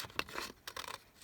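Scissors snipping a paper piece for an envelope card, a few quiet close cuts and rustles over little more than a second.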